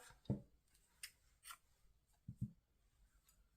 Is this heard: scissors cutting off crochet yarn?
yes